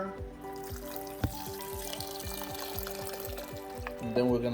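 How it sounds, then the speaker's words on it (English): Water pours steadily into a rice cooker holding beef stew, a continuous splashing trickle with a rising filling tone, ending in a slightly louder gush. "Now we'll add some water."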